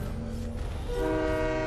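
A train horn sounds in the Fortnite video game, a sustained multi-tone blast that comes in partway through and holds steady over low rumbling game audio.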